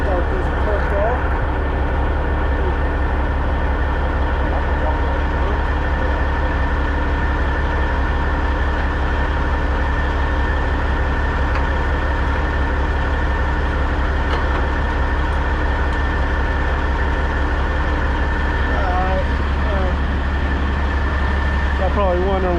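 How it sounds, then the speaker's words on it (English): Diesel semi truck engine running at a steady idle, a loud, constant low rumble close by that carries through the whole clip, with faint background noises on top. "Start this truck off."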